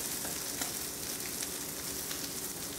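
Crab cakes fry in oil in a pan with a continuous, even sizzle and fine crackle, close and moderately loud throughout with no voices.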